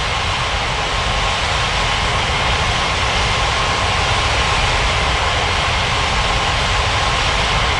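A steady, loud jet roar from an aircraft landing at Capeville City International in Unmatched Air Traffic Control holds at a constant broadband level throughout, with no speech.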